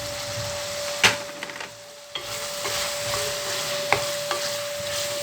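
Diced potato sautés in a pan for a spiced vegetable kurma, giving a close, continuous sizzle broken by a few scraping stirs and utensil clicks, with a faint steady hum beneath and no talking.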